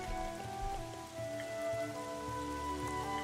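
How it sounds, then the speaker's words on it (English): Rain falls steadily in the video game Xenoblade Chronicles 3, a continuous soft patter spread beneath sustained game music, with no voices. "Seems like the rain's coming."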